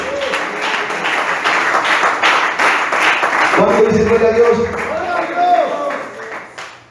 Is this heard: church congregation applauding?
yes